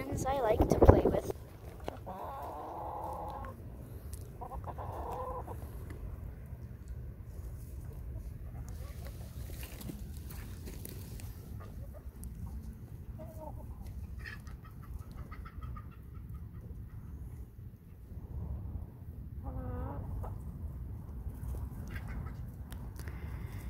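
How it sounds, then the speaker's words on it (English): Hens clucking softly at close range in scattered bursts, with quiet voices talking now and then over a low background. "there's some of the hens I like to play with"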